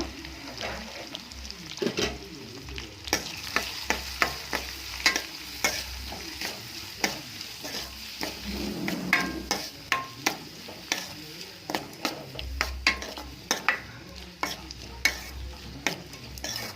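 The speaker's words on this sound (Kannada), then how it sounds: "ಮೂರು ಈರುಳ್ಳಿ ಚಿಕ್ಕ ಚಿಕ್ಕದಾಗಿ ಕಟ್ ಮಾಡ್ಕೊಂಡಿದ್ದೀನಿ ಇದನ್ನು ಚೆನ್ನಾಗಿ ರೋಸ್ಟ್ ಮಾಡ್ಕೊಳ್ಳೋಣ ಈಗ" Three finely chopped onions roast in a pan, giving a continuous sizzle under frequent sharp scrapes and taps of a spatula stirring throughout.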